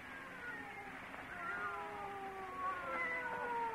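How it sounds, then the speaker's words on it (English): Two cats yowl and caterwaul in long, rising and falling wails inside an old-time radio horror drama, heard clearly over a quiet room background with no talk. "They're not ordinary cats. Listen to them."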